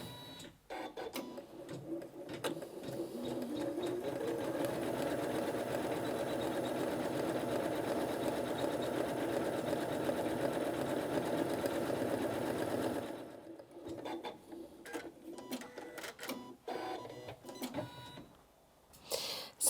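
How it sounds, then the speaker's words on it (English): A Janome Atelier 9 sewing and embroidery machine embroiders with a steady, rapid mechanical chatter for about thirteen seconds, then stops, leaving quieter clicks and handling noises. "And then I'm going to drop the presser foot and start embroidering."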